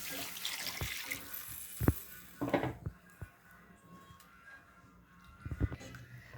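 Rice-washed water is poured into a pan of masala gravy for kulambu, with a faint splashing trickle, a few clinks of utensils against the pan, and quiet kitchen background.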